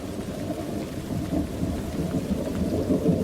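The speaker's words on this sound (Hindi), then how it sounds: "रात के अंधेरे में बारिश का कहर" Heavy rain pours steadily at night in a forest setting, with low rumbles of thunder rolling through a dense, constant wash; loud and close, with no voices.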